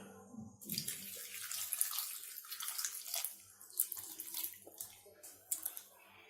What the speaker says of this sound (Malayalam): ഇതിലേക്ക് നമുക്ക് വേവാൻ ആവശ്യമായ വെള്ളം ഒഴിച്ചു കൊടുക്കാം.